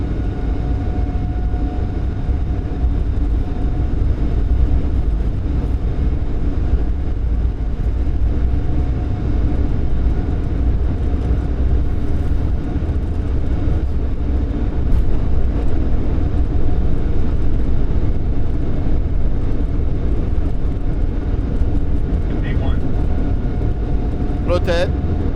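Boeing 747-8 freighter engines at takeoff thrust during the takeoff roll, a loud continuous rumbling roar heard from inside the cockpit, with crew voices calling out over it.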